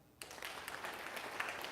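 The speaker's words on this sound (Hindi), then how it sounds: "तालियां।" A seated audience at a yoga session bursts into applause after a brief quiet moment, a soft, steady patter of many hands clapping, heard from some distance.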